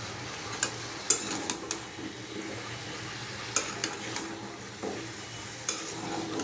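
Potatoes with salt fry in a pan for potato curry, a soft steady sizzle with repeated stirring knocks and scrapes of the spatula at irregular intervals.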